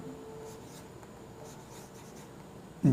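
Chalk or marker scratching steadily across a board during a physics lecture on magnetism, a continuous soft scraping texture at moderate distance with no talking, ending in a louder bump.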